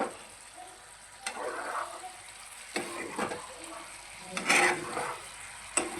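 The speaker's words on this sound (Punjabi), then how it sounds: "ਤੇ ਹੁਣ ਆਪਾਂ ਇੱਕ ਵਾਰ ਇਹਨੂੰ ਫਿਰ ਤੋਂ ਮਿਕਸ ਕਰ ਲਾਂਗੇ" Pumpkin sabzi is stirred in a frying pan, with scraping spatula strokes against the pan over a quiet sizzle, several irregular stirring bursts close by and no talking.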